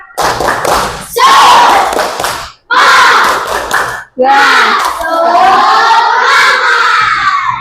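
An elementary school class performs a rhythmic spirit clap chant, loud bursts of children's shouting voices together with claps in short, repeated phrases.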